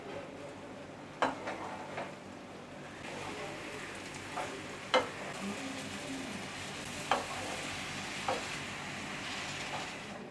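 Bombay duck fish and chopped fenugreek cook in an onion tempering, stirred in a pan. A soft, even sizzle runs underneath, punctuated by scattered clicks and scrapes of the spoon.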